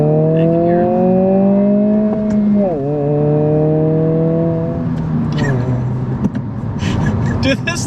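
A 2022 Honda Civic Si engine revved hard in second gear in sport mode: a rising, buzzy engine tone climbing toward redline, a brief dip at the shift, then more pulling, heard from inside the cabin with people talking over it.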